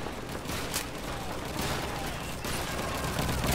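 Dense gunfire from Call of Duty, a machine gun chattering in a steady barrage with bursts and explosions layered over it, loud and continuous throughout.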